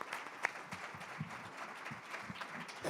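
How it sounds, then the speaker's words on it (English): An audience applauds the panelists at the end of a panel discussion, a fairly light, scattered clapping with a few sharper individual claps standing out. "let's have a round of applause for our panelists"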